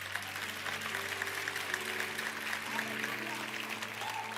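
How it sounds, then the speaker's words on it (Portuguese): A church congregation applauding during a Portuguese-language sermon, a steady wash of clapping from a large crowd that holds through the whole stretch, with a sustained tone and faint voices running underneath. "Olha, aplaudir Jesus."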